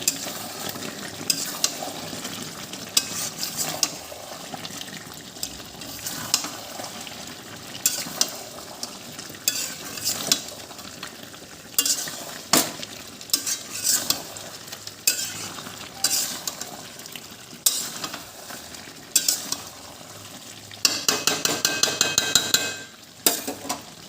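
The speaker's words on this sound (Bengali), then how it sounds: "বারবার ঢেকে ঢেকে কষতে হবে মাংসটা" Country chicken curry meat being stir-fried in a pan, with steady sizzling and repeated scraping, stirring strokes throughout, growing louder and busier near the end; no voices.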